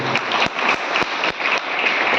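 An audience at a business seminar gives a short burst of applause, steady dense clapping at moderate volume with a few sharper claps standing out.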